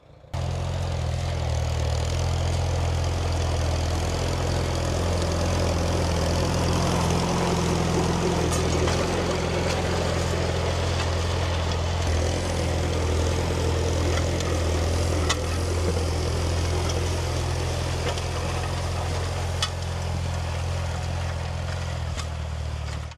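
A farm tractor engine runs steadily while planting a fall cover crop, a loud, heavy low drone that holds constant throughout with faint mechanical rattles and occasional clicks over it, and no talking.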